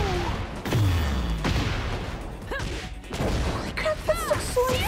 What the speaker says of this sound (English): look at her use her gun!